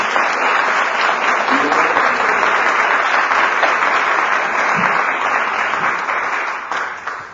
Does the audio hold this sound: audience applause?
yes